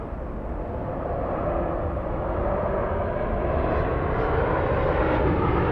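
A Mexican Boeing 737 jet airliner roars steadily as it departs Los Angeles International Airport, a loud, continuous broadband rumble heard from nearby.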